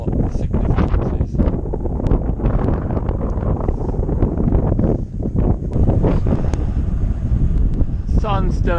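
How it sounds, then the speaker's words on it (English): Steady north wind buffeting the microphone, a continuous rough rumble with some voice and bird-like chirps near the end. "Pretty windy from the north"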